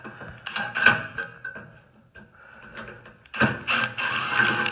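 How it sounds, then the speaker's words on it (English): Ratchet clicking while screws are backed out of a bracket on a Suburban SF-30F furnace, arriving in short bursts of rapid, close metallic ticks with a pause in the middle before a louder run at the end. "we're going to have to take those screws out of there again."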